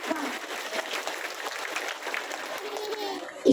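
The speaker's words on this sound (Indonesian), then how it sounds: "Ini tepuk tangan dulu nggak apa-apa" Audience applause at an Islamic sermon gathering in Langgensari, Ciamis, a steady crowd clapping that runs continuously at moderate level with a voice mixed in near the end.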